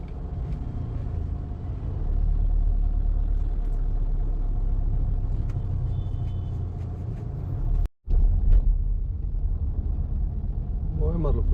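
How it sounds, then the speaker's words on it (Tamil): Inside a moving car on a busy road, a steady low engine and road rumble continues with traffic around it. The sound breaks off briefly partway through, and faint talking can be heard under the drone. "7:30க்கு ஃபுல்லாக டிராஃபிக் ஆரம்பிச்சிச்சு."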